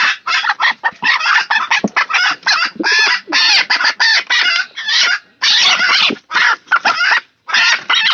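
A hen clucks close by in quick, choppy bursts, a busy run of repeated calls with short gaps between them.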